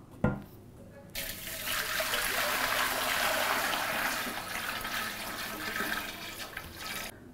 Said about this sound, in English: Let's pour some water in this boiler and turn it on.